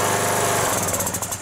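A Stiga Park ride-on mower engine with carburettor problems runs loud and close, a rough, buzzing drone that begins to stutter and pulse unevenly partway through.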